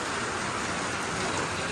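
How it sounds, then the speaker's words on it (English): Steady rain falls in a dense, even hiss throughout, loud and close with no break, during a stormy spell on a rural property. "Good news is we're getting plenty of rain."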